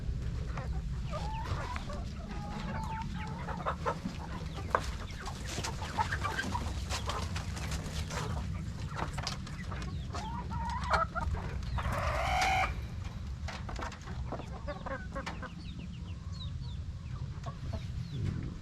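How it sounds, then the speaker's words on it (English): A flock of chickens clucks and murmurs steadily nearby, with occasional louder squawks over a constant low background rumble. "Chickens are waiting on some food."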